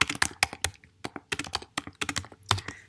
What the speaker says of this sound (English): So I can start typing sentences.